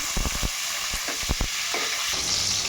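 Green chillies drop into very hot ghee and oil, bursting with a few sharp crackles and pops before settling into a continuous loud sizzle.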